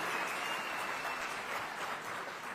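A summit audience applauds in a dense, sustained wash of clapping that holds steady and fairly loud without pause, no voices standing out.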